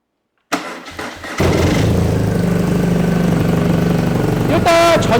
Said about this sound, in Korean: 공랭 R엔진의 필링을 한번 들어보면서 배기 사운드 들어보고요